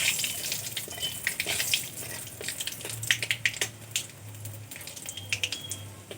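Two dried chillies sizzle in hot oil with whole spices including cumin, giving a dense crackling hiss with scattered pops and spits over a faint low hum.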